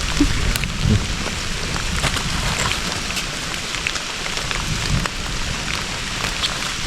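Steady rain falls through a forest during wild mushroom foraging, an even close patter on leaves and ground with scattered louder drops and no voices.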